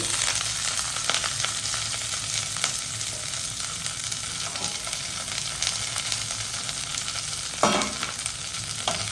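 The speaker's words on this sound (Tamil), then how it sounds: "கடுகு போட்டுக்கோங்க வரமிளகா ரெண்டு மாதிரி பிச்சு போட்டுக்கோங்க வெங்காயம் கருவேப்பிலை" Mustard seeds, two torn dried red chillies, onion and curry leaves sauté in oil in a pan for broad bean poriyal, giving a steady close sizzle with crackling and stirring scrapes throughout, no voices.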